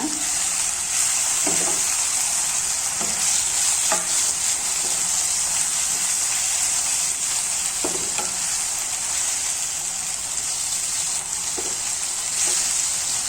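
Ginger garlic paste frying in a pan for mushroom gravy, a steady bright sizzle throughout with occasional soft stirring knocks, close and continuous with no talking.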